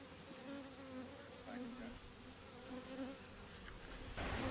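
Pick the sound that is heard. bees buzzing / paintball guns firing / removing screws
bees buzzing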